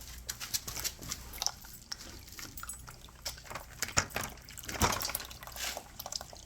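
Motor oil pours from a small machine's reservoir into a larger container, giving a soft, uneven liquid glug and trickle with scattered drips and light handling clatter, close and quiet with no talk.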